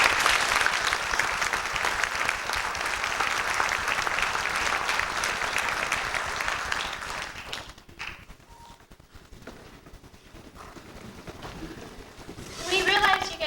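Sustained applause from an audience at a high school National Honor Society awards night, dense clapping for several seconds before fading to quiet room noise, then a voice starts speaking.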